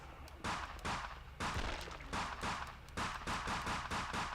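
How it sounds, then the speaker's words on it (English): Repeated gunfire in the zombie shooter 2013: Infected Wars on PlayStation Vita, loud rapid bursts of shots in quick succession with brief gaps, close and dominant throughout. "The sound effect for the headshots is pretty satisfying when it does play."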